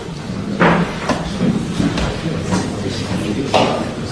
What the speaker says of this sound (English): Oh, that was a loud door